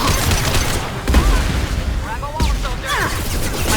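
Weapon fire from a squad firefight in Mass Effect 2, a dense continuous barrage of shots and booms with sharp zipping effects, loud and close under voices speaking.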